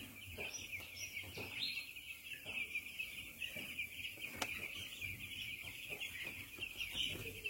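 Broiler chicks in a brooding area peep steadily as a faint, continuous high chorus, with some soft clucks and rustling beneath it.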